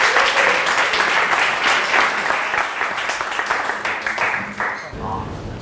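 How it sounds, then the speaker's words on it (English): Warm audience applause at a coding bootcamp demo day in Tokyo as a presenter is called on stage, steady clapping from a roomful of people, fading and thinning toward the end. "Please come and please give him a round of applause."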